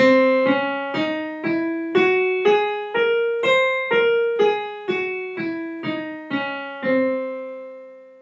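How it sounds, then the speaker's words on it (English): C altered scale, seventh mode of melodic minor, played slowly as about thirteen evenly spaced notes climbing then descending, each clear and sustained with bright harmonics, solo with no talk. "So the C altered scale sounds like this."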